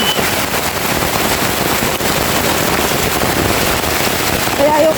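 Dense, steady downpour hissing across the whole clip, a loud continuous roar of heavy rain over a cornfield at harvest, with faint voices underneath.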